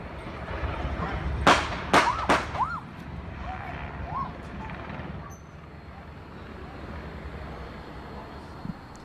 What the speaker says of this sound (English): Those are the gunshots that killed that 47-year-old man in an alley off Jewel Street near Grand Avenue.